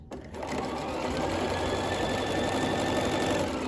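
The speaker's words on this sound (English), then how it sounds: "We're going to turn and go ahead and sew this last final edge." A sewing machine runs steadily at speed along the last edge of a pleated cloth face mask, a continuous close mechanical whir with no talking.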